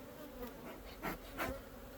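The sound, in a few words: honey bees buzzing at backyard apiary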